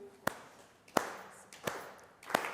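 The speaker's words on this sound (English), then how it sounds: "all of you, join in, clap at this speed" A small audience claps in unison, four sharp, spaced claps in a slow, quiet, steady beat at a lecture with a hip hop Shakespeare theme, with soft room noise between the claps.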